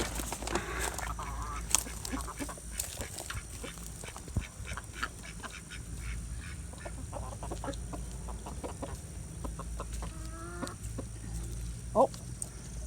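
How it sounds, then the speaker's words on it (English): Backyard poultry, chickens clucking and ducks quacking, scattered calls near and far over a steady outdoor hum, with one louder sharp call toward the end. "All my chickens. All the ducks."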